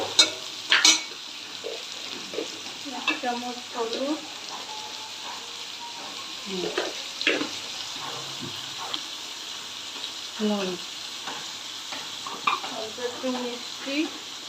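Prawns and potatoes fry together in a pan, with steady sizzling under repeated scraping and stirring clatter from a utensil against the pan, close by and moderately loud.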